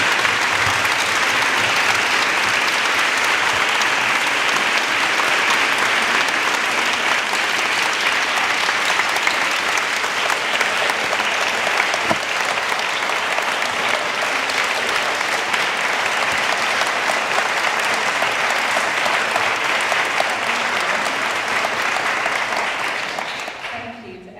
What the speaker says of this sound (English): Please join me in giving another ginormous thank you, applause for Rick Roberts.